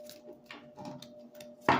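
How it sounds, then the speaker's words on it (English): Tarot cards get a quick, quiet shuffle close by: soft scattered taps and flicks, then a brief, sharper riffle burst at the end, over a faint steady hum. "I'm just going to do a quick shuffle."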